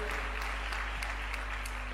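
Church congregation applauding steadily, a dense continuous wash of clapping under a low steady hum, even and moderately distant throughout.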